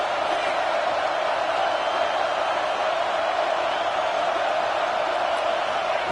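A stadium crowd at a Gators college football game roars in a dense, sustained wash of cheering and noise that holds steady from start to finish.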